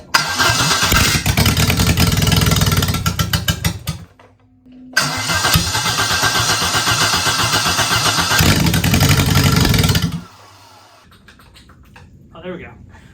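Carbureted engine with no choke, tested on a garage floor, cranks and catches into a loud, steady rough running for about four seconds, stops briefly, then restarts and runs for another five seconds before dying, close by.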